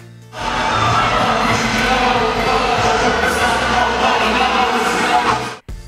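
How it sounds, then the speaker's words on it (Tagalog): A packed shopping-mall crowd of fans screams and cheers loudly and continuously at a movie mall show, a dense roaring wall of voices that cuts off abruptly at the end. "dumagundong na naman ang mall sa lakas ng hiyawan ng mga fans"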